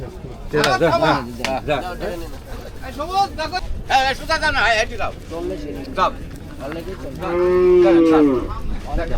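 Cows moo several times, some long and drawn out, amid steady chatter from people at the Uttara Diabari Qurbani cattle market, with cattle being bargained over.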